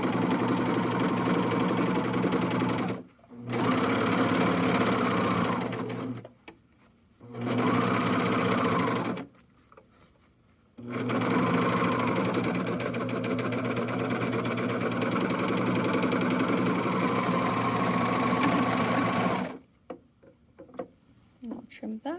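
A serger overlock machine stitches and trims the seams of a fanny pack back panel, running in several loud, steady mechanical bursts of a few seconds each, separated by short pauses.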